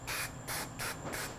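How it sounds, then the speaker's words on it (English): Hairspray from an aerosol can sprayed into the inside of a handlebar grip, four short hissing bursts in steady rhythm, close and loud. "hit the inside of it up with hairspray"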